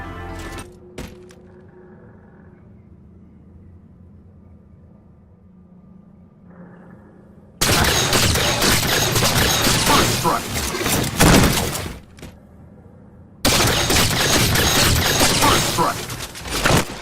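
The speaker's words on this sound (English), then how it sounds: "This gun takes about 5 seconds to shoot 12 bursts or 12 shots" Promethean Light Rifle in Halo 4 firing bursts: two long dense stretches of loud, rapid crackling energy shots, separated by quieter moments with a few faint clicks and mechanical hums.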